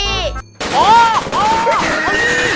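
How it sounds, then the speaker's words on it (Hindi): Cartoon explosion effect from a Hindi animated comedy, a sudden loud burst after a brief sliding tone, followed by warbling, wobbly sound-effect swoops. "अरे ये धमाका कैसा?"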